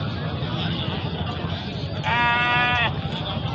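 A goat at a livestock market gives one clear, loud, wavering bleat over a steady backdrop of crowd chatter and nearby voices.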